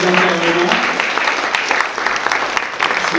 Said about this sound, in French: Je vous propose d'applaudir nos 4 intervenants.